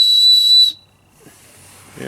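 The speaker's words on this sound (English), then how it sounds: "This unscrews, and there's a whistle in there." A whistle built into the unscrewing handle of a survival hatchet multi-tool gives one loud, shrill, steady blast lasting under a second, then stops, leaving faint handling noise.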